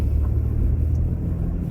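Steady low rumble inside a moving car, a constant close engine and road drone with no talking.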